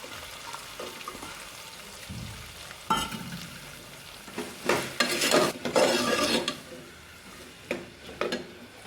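Chopped onion tipped into hot oil in a pan for coconut rice, giving bursts of sizzling and stirring scrapes that swell and fade, with utensil clinks and no talking.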